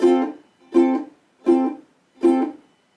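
Four evenly spaced guitar strums, each a short chord quickly choked off into silence just after the down strum, giving a clipped, muted rhythm.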